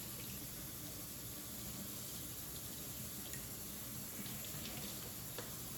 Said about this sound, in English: So I'm just going to give it a quick rinse off